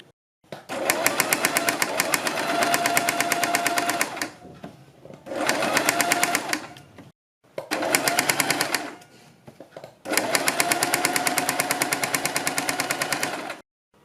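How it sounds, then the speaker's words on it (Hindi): A sewing machine stitches along the edge of a fabric neckline piece in four bursts of loud, rapid, steady whirring, each stopping briefly before the motor starts again. "इसके बाद हम सबसे पहले इसके किनारे पर एक सिलाई लगाएंगे।"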